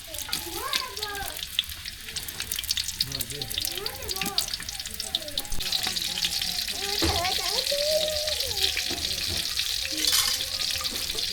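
Green chili and onion hit a hot pan and fry with a bright, hissing sizzle that swells louder midway, while a voice speaks over the cooking in a village kitchen.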